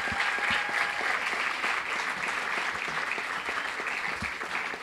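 A room of people applauds the top 10 freshman recipients at an NEO A&M College ceremony in 2015, with dense, even clapping held steadily for about five seconds and no voices over it.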